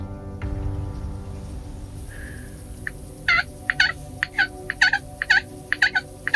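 Wild turkeys gobble in the Ontario woods: after a quiet stretch, a rapid series of sharp, rattling gobbles breaks out in quick succession, fairly close and clear over faint background hiss.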